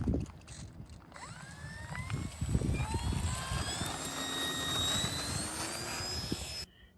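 An RC model aircraft takes off outdoors, its engine whining steadily and rising in pitch as it gains speed. The sound is moderately distant over a low rumble of wind, and nobody speaks.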